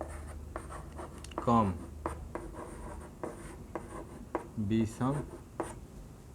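Marker strokes squeak and scratch across a board in quick, repeated short bursts while a teacher speaks in Hindi during a maths lesson.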